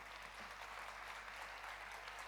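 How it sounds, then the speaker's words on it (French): Warm applause from an audience at a parenting-week opening day in the Vosges, steady dense clapping throughout, fairly faint and distant with no speech over it. "Applaudissements chaleureux pour cette très belle équipe."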